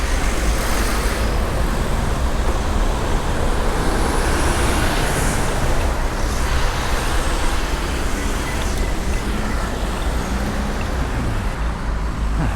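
Riding a Super73 RX electric bike fitted with Lekkie 160mm crank arms and a Kanebilt carbon fiber chainring: a steady, loud rush of wind and road noise runs unbroken throughout, with no talking.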